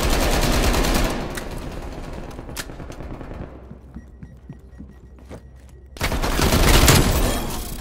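Video game gunfire in Call of Duty: Black Ops Cold War, loud dense bursts at the start and again near the end, with a quieter stretch of scattered shots and clicks between.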